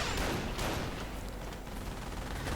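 Light machine gun fire from an infantry half-track in a World War II real-time strategy game, dense bursts of gunfire mixed with battle noise, loud and continuous throughout with no speech.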